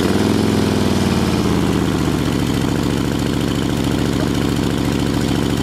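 A Harley-Davidson Fat Boy chopper motorcycle engine idles close by with a steady, loud low rumble and even throbbing pulses, running alone without any voices.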